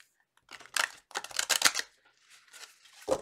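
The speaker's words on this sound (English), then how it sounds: "Two more shuffles, spirit." Tarot cards riffle and flutter in a few quick shuffling bursts, close and fairly soft, with short pauses between them.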